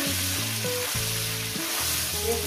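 Broad beans, eggplant and green chilli fry in a hot pan with a continuous loud sizzle, while stirring makes scraping and clattering noises that come in short, uneven bursts over the crackle.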